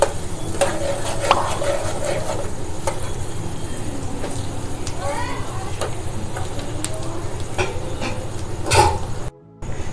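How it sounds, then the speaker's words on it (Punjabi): Chopped onions fry and roast in hot oil for a mixed dal tadka, a steady sizzle with stirring scrapes and light clinks while a person talks over the cooking. "ਸਾਡੇ ਪਿਆਜ਼ ਜਿਹੜੇ ਆ ਜੀ ਭੁੱਜਦੇ ਪਏ ਆ ਜੀ ਹੁਣ ਅਸੀਂ ਇਹਨਾਂ ਨੂੰ ਹੋਰ ਭੁੰਨਾਂਗੇ"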